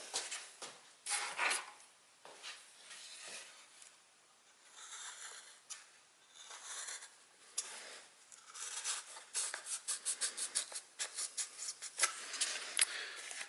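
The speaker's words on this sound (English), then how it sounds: "So we're going to use a really sharp X-Acto knife, and we're just going to slice into that right at that spot" A very sharp X-Acto knife slices into a model aircraft wing with close, faint scraping and rasping cuts, coming in short strokes and then a quicker run of repeated rasps near the end.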